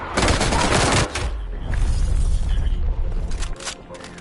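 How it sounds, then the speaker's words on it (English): An artillery strike in Black Ops Cold War multiplayer sets off a heavy, loud burst of explosive blasts, then rumbling impacts and scattered crackling, with a game voice announcement over part of it. "Hostile artillery targeting active. Net call. Incoming artillery."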